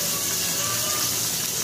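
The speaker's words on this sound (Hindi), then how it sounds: "हरी मिर्च, जो लहसुन अदरक का पेस्ट था वो हम डालेंगे" Green chilli and ginger-garlic paste frying in hot oil, a loud, dense, continuous sizzle heard up close and steady throughout, with no voices.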